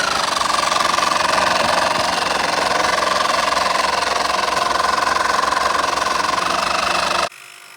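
The air compressor built into a Stanley FATMAX 1200 amp jump starter runs with a loud, steady buzzing drone and rattling vibration for about seven seconds, then cuts off abruptly.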